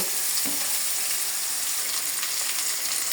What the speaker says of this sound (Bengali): কুচি করে রাখা আলুগুলো আগে ভেজে নেব